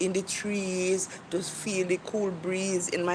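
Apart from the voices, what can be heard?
No everyday noise stands out behind the speech.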